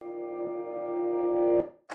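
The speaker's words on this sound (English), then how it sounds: "I took the very last chord and I reversed it." A single electric piano chord played in reverse swells gradually from quiet to a loud peak, cuts off abruptly, then a short breathy burst follows after a brief gap.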